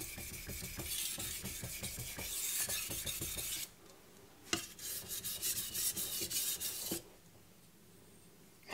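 A knife blade is stroked across a Jende nanocloth strop in quick rhythmic rasping passes, a run of close strokes, then a pause, a single stroke and another burst of passes before falling quiet.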